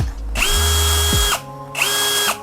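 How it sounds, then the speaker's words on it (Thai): A cordless drill whirs in two bursts at its lowest speed setting, revving up sharply, running steady for about a second, then a shorter second spin. "ถ้าเราใช้สว่านตัวนี้หมุนก็อย่างนี้นะจะขยับแบบนี้นะครับ"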